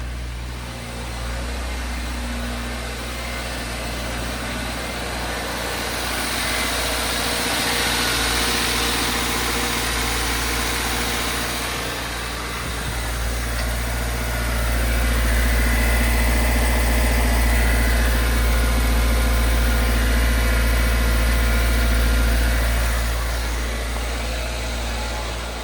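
A 2024 Subaru Ascent engine idles steadily for the whole stretch, a low rumbling hum with slight swells in loudness partway through, no one speaking.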